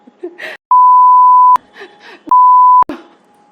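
Two loud, steady censor beeps cover swear words in a conversational interview. Each tone lasts close to a second and cuts sharply into a woman's speech between bursts of talk.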